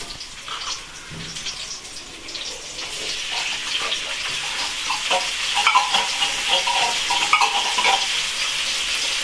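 Ground meat sautés in a pan with garlic and onion: a steady, close sizzle with scraping stirs, growing slightly louder as it continues.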